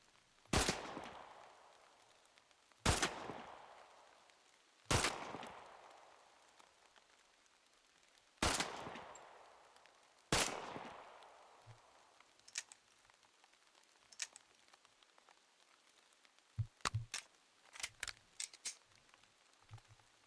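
Gunfire in the video game Ferocious: five loud, spaced single shots in the first half, then fainter scattered clicks and a quick burst of shots near the end, with no talking.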